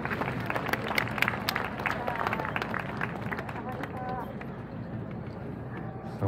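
Applause from an audience at a Kyoto yosakoi dance event, a steady sustained clapping wash with crowd noise, fading slightly toward the end.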